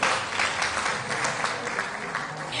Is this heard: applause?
yes